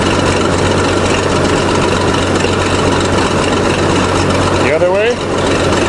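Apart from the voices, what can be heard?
1953 International dozer engine idling while tilting blade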